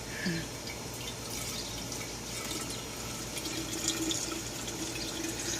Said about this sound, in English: So she is now pouring the water